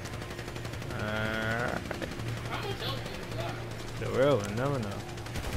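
Steady gunfire in GTA 5 Online rattles continuously under loud voices talking and exclaiming, with a tonal warbling game sound mixed in.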